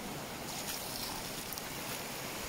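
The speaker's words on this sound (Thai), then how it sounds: "เป็นน้ำตกลำธารเล็กๆที่ไหลผ่านมา" A small waterfall stream in Karen country, Myanmar, rushes steadily in a constant broadband wash of flowing water, fairly soft and unbroken, with no voices.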